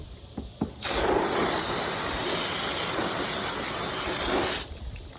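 Water sprayed to rinse a gutted Florida gar, a steady close hiss of running water that starts abruptly, holds for several seconds and then cuts off, with small handling knocks before it.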